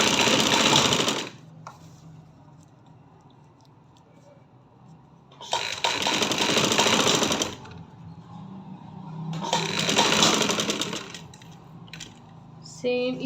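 An electric sewing machine stitches lace onto a one-year-old baby girl's dress in three loud whirring bursts, with quiet pauses between runs.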